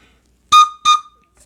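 A handmade wooden toy whistle gives two short, loud, shrill blasts close by, separated by a brief gap, in otherwise near silence.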